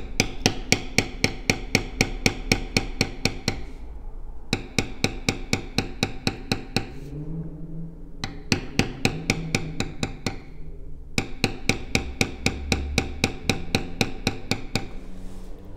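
A mallet strikes a beveling tool into leather vine work on a tooled belt pattern in steady, rapid taps, four runs of sharp knocks separated by short pauses.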